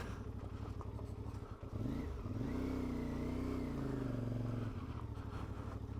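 A CFMOTO Ibex 450 motorcycle ridden on singletrack and ATV trails, its engine droning steadily then rising and swelling in a sustained rev before settling back, close and continuous throughout.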